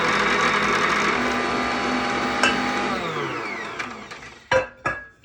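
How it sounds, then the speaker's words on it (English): A Bosch stand mixer, owned for decades, whirs steadily as its motor winds down and fades, then sharp clatters and knocks follow near the end. "This is a Bosch stand mixer."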